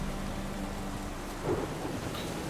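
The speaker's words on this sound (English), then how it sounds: "A storm, damn it." Thunderstorm in The Witcher 3: Wild Hunt, a steady wash of heavy rain with a low rumble of thunder swelling briefly midway, dense and fairly loud throughout.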